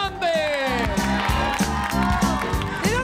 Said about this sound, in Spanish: un aplauso, vuelve Rolando